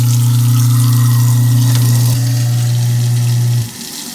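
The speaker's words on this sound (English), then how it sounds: "I'm going to increase the flow of water, rinse out any additional foam from the sink." Water runs steadily into a kitchen sink to rinse out a garbage disposal, a loud continuous flow with a strong low hum that cuts off near the end, with no voices.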